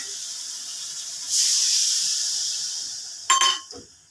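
A bowl of water poured into a hot pan of spiced fish curry gravy bursts into a loud, steady sizzling hiss that slowly fades, followed by a short clatter near the end.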